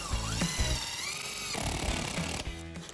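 A power drill drives a screw through plastic roofing on a greenhouse, its motor whining steadily at close range in several short bursts for about three seconds.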